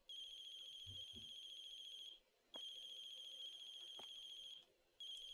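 A phone ringtone in the horror video game The Closing Shift, a steady electronic tone ringing in two long bursts separated by a brief pause, starting a third, with a faint thump underneath.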